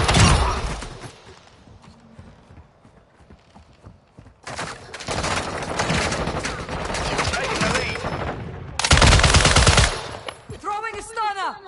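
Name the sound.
hipfire gunshots in a video game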